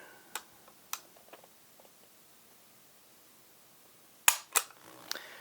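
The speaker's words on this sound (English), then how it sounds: "Now let's check the double action trigger pull with our Lyman trigger gauge" Dry-fire trigger pulls on a Walther PD380 .380 ACP pistol measured with a Lyman trigger gauge: a couple of sharp, isolated metallic clicks early on, a quiet pause, then a quick cluster of louder clicks near the end.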